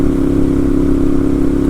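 A 2012 Ducati 796 Monster's engine hums steadily while cruising in sixth gear at about 70 mph and 4,000 RPM, a constant loud drone with rushing wind and no change in pitch.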